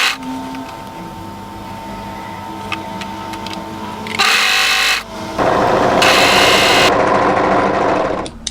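A plain domestic sewing machine stitches a cardigan sleeve in loud, close bursts of rapid whirring, several runs separated by short pauses, after a quieter stretch of faint handling noise, with no talking.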